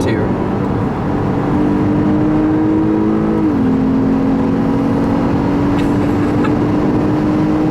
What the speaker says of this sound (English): as you can hear, I love the sound of the F-Sport intake.